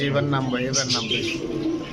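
Pakistani boot-beaked pigeons coo in a steady murmur, close and moderately loud, with several overlapping birds and a soft background hum.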